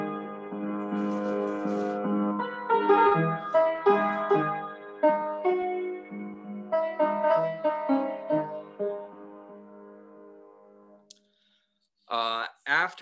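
Solo piano plays a slow, melancholy passage from Mussorgsky's Pictures at an Exhibition, "The Old Castle", with sustained chords and a singing melody, fading out before a voice starts speaking.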